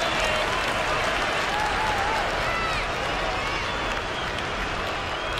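A basketball arena crowd in NBA 2K21 roars and applauds steadily, a dense, loud wall of cheering and clapping that holds without a break throughout.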